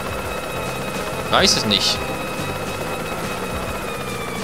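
A helicopter-like flying sound in the platformer Yooka-Laylee whirs steadily throughout, with a brief chirpy game effect in the middle and someone speaking German over it.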